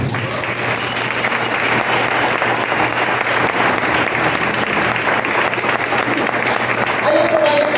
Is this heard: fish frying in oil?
no